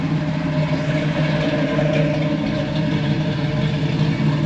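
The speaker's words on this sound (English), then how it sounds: "Bit of a fast idle right now" A car engine idles fast, a steady, loud mechanical drone with a constant low rumble and no change in pace, heard close and alone.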